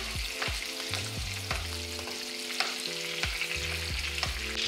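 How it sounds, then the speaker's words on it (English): Steak sizzles loudly in a pan as butter with garlic and thyme is basted over it, a constant close frying hiss broken by spoon scrapes and spattering pops, with no talking. "The butter is now cooking all of this beautiful garlic and thyme"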